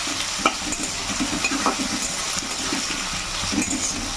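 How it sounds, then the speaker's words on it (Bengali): Chopped onions fry in oil for a chicken curry, a dense continuous sizzle close by with faint clinks and stirring sounds, and no speech over it. "এবার পেঁয়াজটাকে তেলের সঙ্গে ভালো করে ভেজে নেব।"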